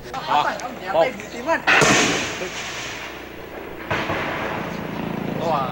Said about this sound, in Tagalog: Wala ring humpay ang palitan ng putok.